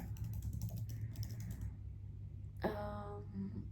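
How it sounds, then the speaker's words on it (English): Soft, rapid typing on a computer keyboard, a quiet run of close key clicks with a brief pause before a few more taps at the end. "So yeah, I'm just typing out."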